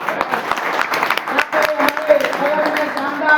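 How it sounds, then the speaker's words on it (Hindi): Applause from an audience, a dense patter of clapping mixed with voices, steady for several seconds. "इन तमाम साथियों के ताली बजा सकते हैं"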